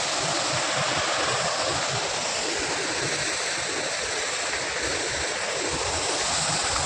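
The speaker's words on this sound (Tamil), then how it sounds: "அட இங்கே பாருங்க, இவ்வளோ தண்ணி வருது" A steady, loud roar of rushing water from Pykara Falls in Ooty pouring nearby, continuous and unbroken.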